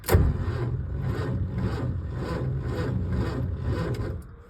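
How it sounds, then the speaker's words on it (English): A 1946 Hudson car with a 6-volt electrical system turns over, a loud rhythmic cranking churn from close by that keeps going for several seconds and then tapers off. "She does turn over, which is good."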